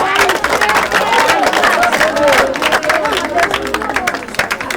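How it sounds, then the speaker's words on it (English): Clapping from a crowd at a primary school award ceremony, with dense rapid applause and cheering running throughout, while voices talk and call out over it. "Clap for her"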